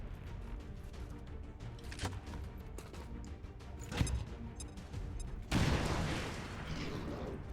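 A grenade blast in the XCOM 2: War of the Chosen strategy game lands as a sudden thump, then a broad, rumbling burst of noise that lingers over steady background game sound.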